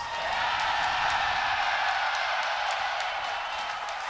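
Team Liquid fans at The International 2017 esports tournament fill the arena with a dense, continuous crowd roar of cheering that stays loud and even throughout.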